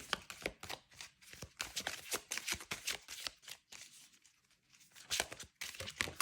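Oracle des dieux cards shuffled by hand for a card reading, a rapid run of dry papery riffles and flutters in close bursts, briefly pausing partway through before resuming.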